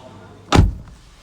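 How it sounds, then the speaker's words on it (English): A single solid thump of a 2021 Nissan Almera Turbo 1.0 car door shutting close by, short and loud against a quiet background. "So let's close the door."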